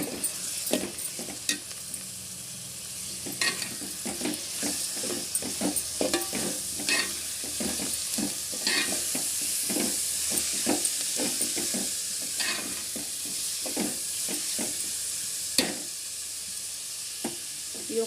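A pan of raw prawn and drumstick curry fries with a steady close sizzle while a spoon scrapes and stirs in frequent uneven strokes, with no talking.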